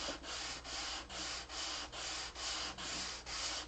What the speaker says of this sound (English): hold the sanding block in the same orientation the whole length of the flap